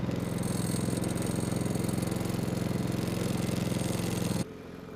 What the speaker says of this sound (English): I'm just going to wait a second for the carburetor to fill with fuel before trying to start it.